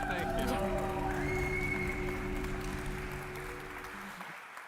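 Audience applause for Griff Green before his talk on markets for public goods, a moderate wash of clapping beneath a voice that trails off toward the end.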